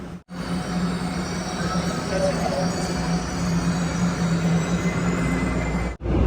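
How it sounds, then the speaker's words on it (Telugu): A Seoul subway train on the yellow line, on a rainy day, rumbles steadily into a station with a continuous roar and faint rail hum, a brief hush near the start and end. "ట్రైన్ కూడా వస్తూ ఉంది ఇప్పుడు అనౌన్స్మెంట్ జరుగుతుంది"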